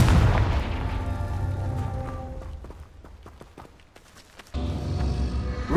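In Hogwarts Legacy, a Confringo fire blast spell goes off with a deep, booming explosion followed by a crackling tail that fades, then a second loud burst hits near the end.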